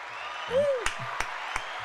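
A studio audience at a game show claps steadily in a brief, even wash of applause, with a voice briefly heard over it.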